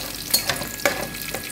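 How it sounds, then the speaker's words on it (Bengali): Onion and green chillies fry in hot oil for a pangas fish curry with bottle gourd greens and potato, a close, continuous sizzle with several sharp stirring scrapes. "এখন দিয়ে দেবো পেঁয়াজ কাঁচা মরিচ।"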